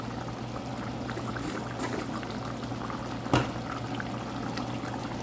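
Dried squid sambal with brown sugar cooks in oil, bubbling in a steady low seething simmer with one brief louder pop partway through.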